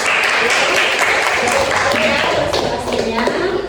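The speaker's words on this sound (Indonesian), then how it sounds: "Tepuk tangan dulu untuk kelompok 1." A classroom group claps for a first group of presenters, dense and steady across the whole stretch, with voices mixed in beneath the clapping.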